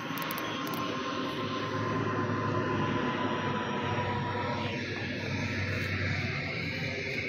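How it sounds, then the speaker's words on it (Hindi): A plane passes low overhead near Delhi, a steady broad jet roar that swells and slowly shifts in pitch, with no one speaking. "तो देखिए एक और एरोप्लेन आ गया इधर"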